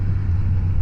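Road traffic heard from a CFMoto Ibex 800 motorcycle stuck behind vehicles, a steady low engine drone and rumble, brief and unbroken, with no talk.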